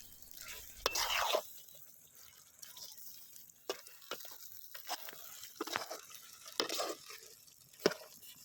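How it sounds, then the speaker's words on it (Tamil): A spicy Chettinad chicken masala is stirred and turned in a pan, giving soft wet scraping and sizzling with intermittent spoon clacks, fairly quiet and close. "மசாலாவை ஆட் பண்ணதுக்கப்புறம் அப்பப்போ பெரட்டி விட்டுட்டே இருக்கணும்."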